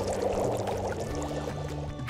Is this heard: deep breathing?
no